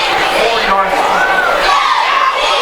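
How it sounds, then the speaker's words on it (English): A South Laurel high school football crowd hollers and shouts from the stands, a continuous distant roar of many voices with a few louder cries rising above it. "This South Laurel crowd, I hear a few hollering."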